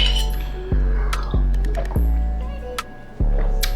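A spoon stirs a creatine drink in a glass, clinking sharply against the side about five times in an uneven rhythm. Each clink rings out briefly, and the sound is close and clear over a low steady hum.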